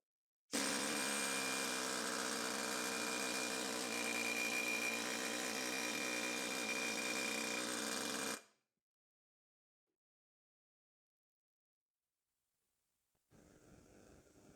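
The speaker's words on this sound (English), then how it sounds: "With the air chisel, I'm going to run around the outside of that tapered cone" Pneumatic air chisel hammering around the tapered cone of a Nissan Patrol TD42 harmonic balancer, a loud continuous buzzing rattle for about eight seconds, then silence before a faint sound resumes at the end.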